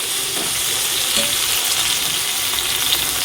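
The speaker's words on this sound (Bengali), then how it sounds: "ফুলটা একটু নাড়াচাড়া করে নিয়েছি" Cauliflower fries in a pan while being stirred, a dense continuous sizzle that fills the short stretch, close and steady, with a few soft scrapes and no voices.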